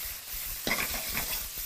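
Shallots hit a very hot pan, bursting into a sharp sizzle over a steady frying hiss, close and fairly loud.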